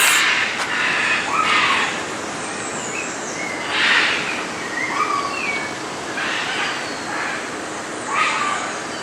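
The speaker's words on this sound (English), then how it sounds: "Listen, there's so many birds." Many bird calls ring out in repeated bursts over a constant outdoor hiss at a beach in Esterillos, Costa Rica, moderately loud and spaced a second or two apart.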